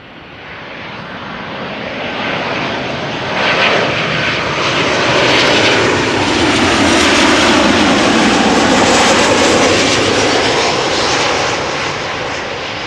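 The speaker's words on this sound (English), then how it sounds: "Ryanair having arrived from Dublin" A Ryanair Boeing 737 arriving from Dublin lands at Schiphol Airport, its engine roar swelling loud and broadband, then holding steady and close as the jet rolls past, with no voices.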